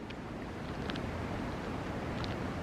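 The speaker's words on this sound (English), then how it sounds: "It's pretty windy out here." Wind blows steadily outdoors on a snowy day, producing a constant broad rushing noise with microphone buffeting and a few faint higher chirps on top.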